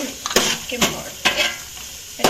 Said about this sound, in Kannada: ನೀರುಳ್ಳಿ ಪಾದ ಫ್ರೈ ಮಾಡ್ಕೊಡು ಫ್ರೈ